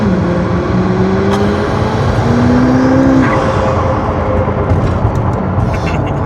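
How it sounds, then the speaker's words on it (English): A McLaren P1 engine revs loudly and close, its rising and falling drone accompanied by turbo boost noises over a continuous mechanical roar. "it's the non-stop boost noises, the roof scoop noises"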